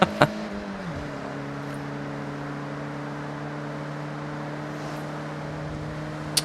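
A car drives in a video game, a steady droning engine hum that drops in pitch after a brief opening thump and then holds constant, moderately loud and without talk.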